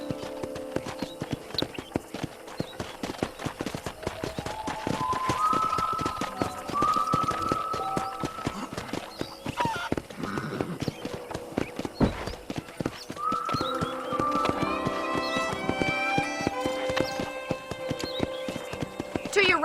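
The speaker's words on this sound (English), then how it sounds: "let's see if you can still ride a horse" Horse hooves galloping in Red Dead Redemption on Xbox 360/PS3, fast steady clip-clop running throughout over a ranch setting, mixed with music and voices talking.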